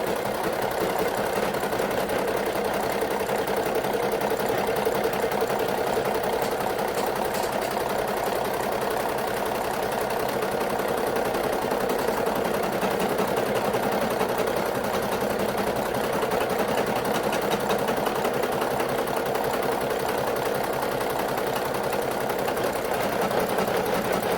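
A Brother SE 1900 embroidery machine stitches a Christmas design directly onto a baby onesie, its needle running in a fast, even mechanical chatter that continues unbroken and loud from start to finish.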